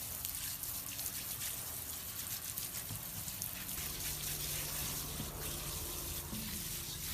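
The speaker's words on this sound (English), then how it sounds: "I'm going to use my hose here to show you, but the goal is we want to soak this entire area" Water from a garden hose runs steadily into a soil berm around a young Pinkerton avocado plant, a continuous close gushing and splashing that fills the basin without pause.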